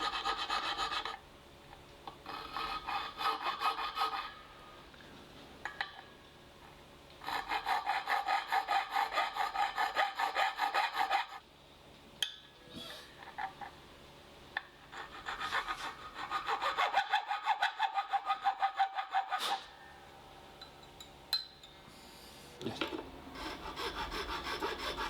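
A file rasps back and forth on a guitar saddle in long, steady strokes, a close scraping sound broken by short pauses between bursts, with no voices.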